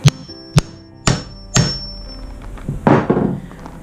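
A hammer smashes a rivet down on a western saddle's cinch rigging plate, giving four sharp, close, evenly spaced strikes followed by a duller, muffled knock.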